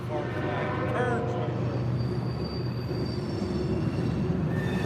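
A CSX train rolls past on the rails near a bridge, a steady, loud rumble of wagons and wheels that carries through the whole stretch with a faint high squeal and some distant voices mixed in.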